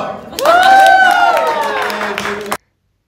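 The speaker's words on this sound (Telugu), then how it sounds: "ఒకసారి చప్పట్లో" A group at a family Rakhi gathering claps together in a burst of applause mixed with cheering and raised voices, loud and close, stopping abruptly after about two seconds.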